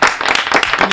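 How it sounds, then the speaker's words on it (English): A group of people clapping continuously, loud and close, with dense overlapping hand claps filling the whole moment and no talk over it. "everyone else is clapping"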